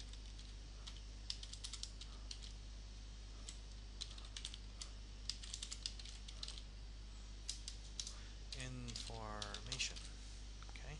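Rapid clicking of keys on a computer keyboard, quiet and close, in uneven bursts, with a brief voice near the end.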